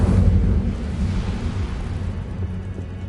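A fire spell cast in a Harry Potter video game erupts as a loud, dense roaring burst that stays strong and full throughout, like a sustained whoosh of flame.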